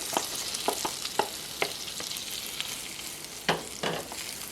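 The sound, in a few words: zucchini sizzling as added to melted fat in pan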